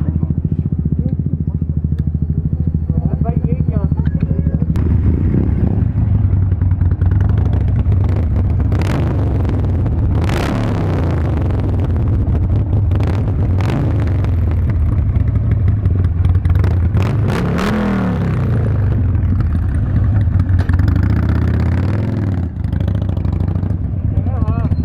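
A motorcycle engine idles loudly and up close, with repeated throttle blips and revving surges above a steady rumble, while people talk nearby throughout.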